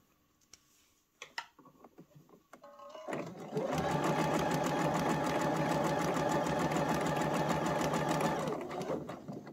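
A sewing machine stitches a fabric scrunchie, starting after a few quiet handling noises and running in one steady, close, fast whirring burst for about five seconds before stopping.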